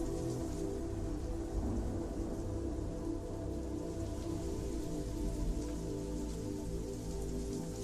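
Steady heavy rain pouring down on surfaces, a dense, continuous hiss and patter with a faint low rumble underneath, unbroken throughout and with no voices.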